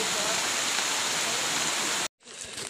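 Rain falls outdoors on a muddy tree-planting site, a dense steady hiss that cuts out abruptly near the end before resuming more softly.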